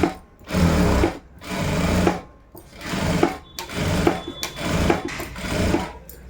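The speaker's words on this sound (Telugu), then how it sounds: "ఒకటే లెవెల్ వచ్చేలాగా చూసుకుంటూ కుట్టు అనేది వేసుకుంటూ రండి" Sewing machine stitching the neck lining of a blouse: loud, close motor whir and rapid needle chatter in several runs of about a second each, separated by brief stops, with no talking.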